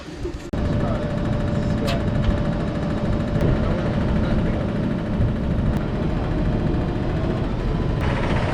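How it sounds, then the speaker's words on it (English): A Fendt 720 tractor engine runs steadily, heard loud and close from inside the cab as a continuous low drone with a faint hum, starting abruptly after a brief moment. "I'm in Rob's tractor, the Fence 720"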